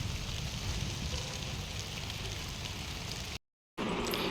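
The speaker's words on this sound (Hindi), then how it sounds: "बारिश से स्टार्ट हो गई है अच्छी वाली" Steady rain falls on a rooftop terrace beside a storeroom, a dense, even hiss with no talk, broken by a brief dropout near the end before the patter resumes.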